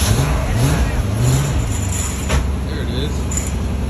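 A car engine cold-started after sitting for about a month idles with a deep, steady, close rumble, while a person speaks briefly over it.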